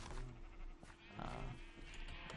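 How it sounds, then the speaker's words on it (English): Blocky Minecraft sheep bleat repeatedly in the game, their nasal calls overlapping in a dense, loud wash with faint background noise. "these sheep might be really annoying"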